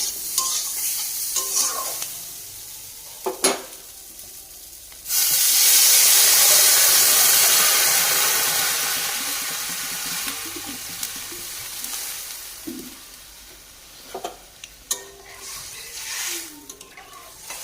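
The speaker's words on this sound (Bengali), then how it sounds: "তেলে কালো জিরে দিয়ে সব দিয়ে ভেজে নিই" Potatoes and eggplant hit hot oil with nigella seeds, bursting into a loud, broad sizzle that holds steady, then slowly eases into a softer crackle with a few sharp utensil clinks, no voices.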